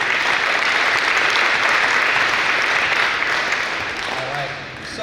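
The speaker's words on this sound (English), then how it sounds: "Let's clap it up for our actors." An audience claps for actors after a staged scene in a training session. The applause is full and continuous, then thins and fades toward the end as a few sounds emerge.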